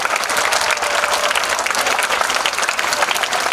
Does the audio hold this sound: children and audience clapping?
yes